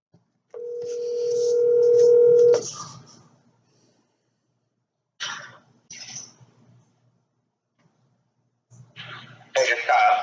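A telephone line tone sounds steadily for about two seconds as a call is placed, followed by quiet gaps and short bursts of connection noise or voice on the line.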